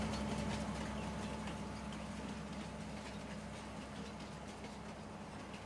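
A steady low rumble with a faint hum from a train in the video game Farming Simulator 19, like an engine idling or rolling slowly, continuous and moderately quiet throughout.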